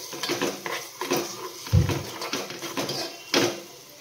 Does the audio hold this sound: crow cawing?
no